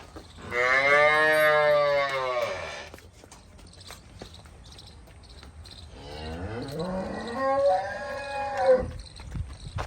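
A cow moos twice, a long loud low call at the start and another several seconds later, with quiet farmyard background between.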